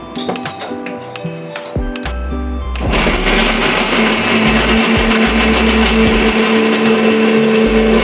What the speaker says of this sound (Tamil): இப்போ நம்ம அரைச்சி தக்காளி வெங்காயம் இதை வந்து அரைச்சி எடுத்துக்கலாம்